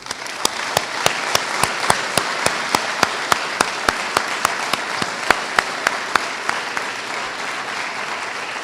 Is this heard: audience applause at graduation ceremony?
yes